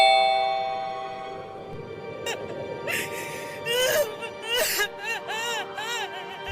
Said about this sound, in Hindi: मुझे उसके घर के अंदर से अजीब औरत के रोने की आवाजें आने लगी थी।